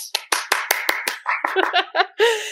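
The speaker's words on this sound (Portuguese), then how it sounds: "Eu quero dar palmas" About a dozen sharp, close hand claps in an uneven rhythm during a Brazilian political podcast, followed by a brief burst of laughter or voice at the end.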